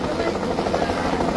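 A helicopter flies over the flood-swollen Trishuli river between Rasuwa and Nuwakot, its rotor a steady throbbing drone mixed with broad rushing noise, sounding fairly close and continuous.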